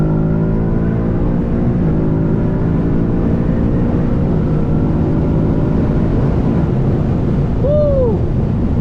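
A 10-speed Mustang GT accelerating hard in third gear at night, heard from inside the cabin as a steady, loud rising engine drone with wind and road roar around it.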